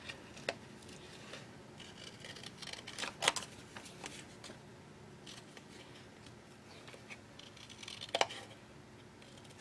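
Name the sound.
scissors cutting gold foil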